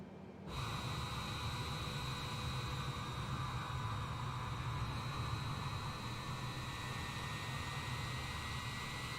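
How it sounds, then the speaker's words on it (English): An aircraft jet engine in Microsoft Flight Simulator 2020 starts abruptly and holds a steady, even whine and hiss over a low rumble, continuous and unchanging for the whole stretch, with no talking. "let's go listen to the other engine."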